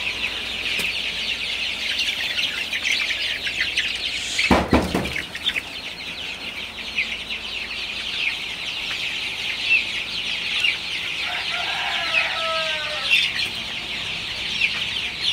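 Chickens cluck in a farm shed, with a few clear calls rising late in the clip over a steady background hiss and a brief loud knock near the start.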